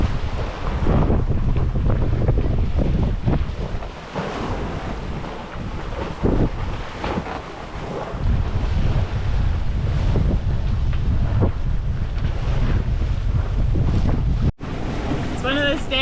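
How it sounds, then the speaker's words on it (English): A sailboat moves briskly toward an anchorage off Mexico in a good breeze. Wind buffets the microphone loudly and waves wash and slap against the hull in an unbroken rushing roar, with one brief cutout near the end. "it's a good little breeze out there, and yeah, it's nice to get to go for a little sail"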